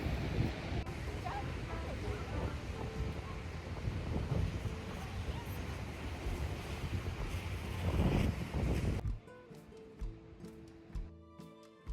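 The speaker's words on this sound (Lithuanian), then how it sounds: "gera tiesiog girdėti jūros ošimą" Sea surf murmuring at a seaside in Portugal, a steady soft wash mixed with wind rumble that drops away abruptly near the end, leaving quieter scattered sounds.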